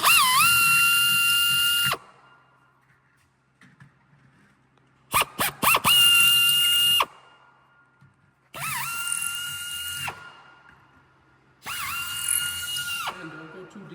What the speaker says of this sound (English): drilling our first hole